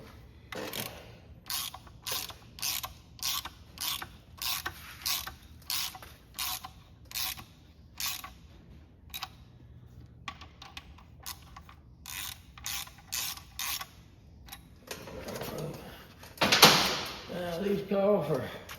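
Ratchet tightening rod bolts on a 1948 Farmall C engine, heard as repeated bursts of rapid clicking in a steady rhythm, close and clear, followed by a louder stretch of mechanical noise at the end.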